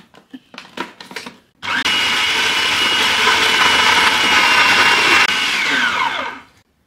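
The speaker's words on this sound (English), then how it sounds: "I'm using some thyme, so I'm going to pulse until everything combines well." A blender pulses whipped feta dip with thyme, giving a few short clicks and bumps before a loud sustained whirring grind of about five seconds that then cuts off.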